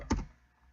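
A single burst of keystrokes on a computer keyboard while a search term is typed, a brief cluster of close clicks lasting about a tenth of a second, then near silence.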